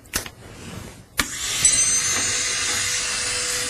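A lab Dremel trimming excess acrylic repair material on a denture: two short sharp touches, then a steady, loud high-pitched grinding whine that holds on alone.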